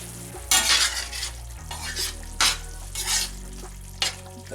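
Stirring and scraping in a pot of chili meat cooking on the stove, with metal utensil clatters and bursts of sizzling, several loud strokes spread over a few seconds with no talking.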